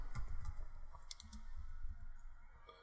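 Light, quiet clicks from keys on a computer keyboard as a short job search is typed, scattered across a few seconds with a steady low background hum and no talk.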